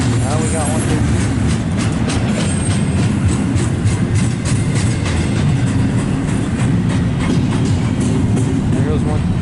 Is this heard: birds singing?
no